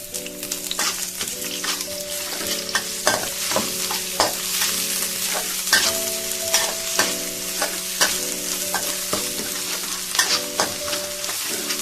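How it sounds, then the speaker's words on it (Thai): Chilies stir-fried in a hot pan for a Thai fried-fish dish, with a steady loud sizzle and frequent sharp scraping strokes of a spatula against the pan, near and continuous. "ใส่พริกนะคะผัดพริกลงไปก่อน"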